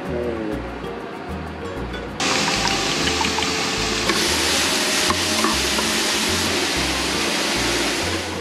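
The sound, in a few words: mushrooms frying in a pan on a boat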